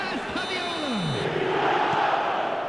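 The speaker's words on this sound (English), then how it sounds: "The crowd are calling for this to be put to bed." A stadium crowd in the football video game eFootball 2025 roars steadily throughout, with chanting and whistling tones that swell and slide, dense and loud with no pauses.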